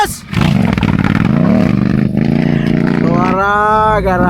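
Big 1000cc to 1250cc motorcycles roar loudly on a motocross track, engines revving hard and continuously, with a rising whine near the end and crowd voices mixed in.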